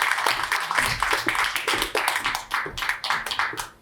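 Applause from a seminar audience, a bright, uneven patter of many hands clapping at moderate volume with no talk over it.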